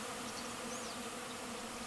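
A large honeybee swarm of several thousand bees gathered on an outdoor grey water tank, giving a steady, even hum with faint individual buzzes passing by, moderately distant and soft.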